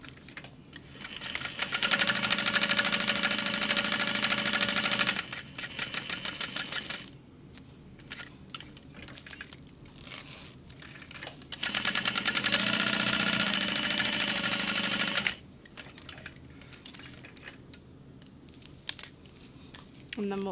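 A sewing machine top stitching a clear or jelly-lined waist pack runs in two long steady bursts, each several seconds of loud, even mechanical whirring, separated by quieter handling noise.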